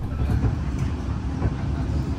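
Inside a Taksaka New Generation passenger train in Indonesia, a steady low rumble of the carriage rolling on rails fills the space, continuous and close with no distinct clacks.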